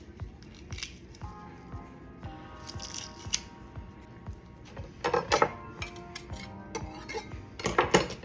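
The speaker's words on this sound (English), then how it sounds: "Use my little press here." Garlic is squeezed through a small metal garlic press in a kitchen, a series of close, quiet metallic clicks and squishing scrapes that grow more insistent toward the end.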